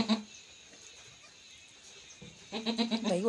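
A goat bleats in a short, wavering call near the end, after a faint short cry at the start, with quiet farmyard background between.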